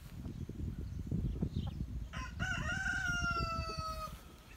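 Chickens cluck in a close, busy outdoor yard, and then a rooster lets out one long, loud crow that rises and holds before trailing off.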